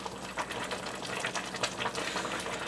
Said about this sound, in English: Now we have this boiling nicely.